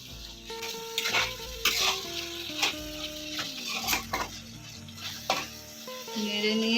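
Coriander and cardamom powder are stirred in a pan over a low flame with scraping and tapping of a utensil against metal, the strokes coming in irregular bursts over a faint sizzle, with musical tones playing in the background.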